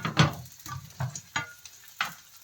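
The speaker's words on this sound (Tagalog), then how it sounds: "Ngayon ilagay ko na yung aking bawang." Garlic sautés in hot oil, a soft sizzle broken by a few quiet stirring scrapes spaced about half a second apart, close and gentle with no voices.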